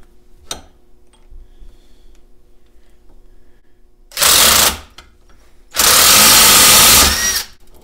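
Impact driver turning a bolt extractor on a padlock clamped to an old used disc brake rotor, with two loud, close bursts of rapid hammering, the second longer, after a faint tap and a quiet pause.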